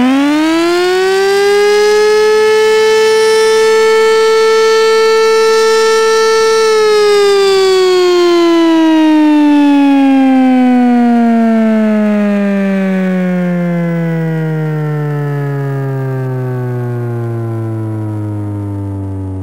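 An older civil defense siren in Brazil sounds a long steady wail that holds its pitch, then slowly winds down, loud and sustained with no voices.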